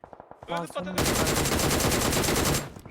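Automatic gunfire in PUBG Mobile rattles in a loud, dense, sustained burst lasting about two seconds. A few shorter shots and voices come just before it.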